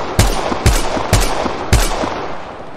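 Four sharp, loud gunshots from Apex Legends Mobile ring out in an evenly spaced series about half a second apart, each with a punchy low thump and a short tail.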